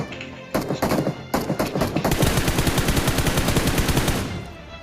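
PUBG Mobile gunfire, a few separate loud shots followed by a long rapid automatic burst that rattles on for about three seconds before stopping, with no talk over it.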